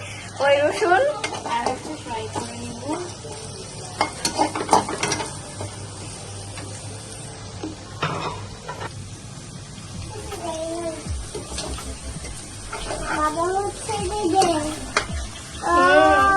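Chili chicken with garlic sizzles in a pan while a utensil scrapes and clatters, the frying hiss running steadily through repeated stirring and clanks, with a voice talking over it at times.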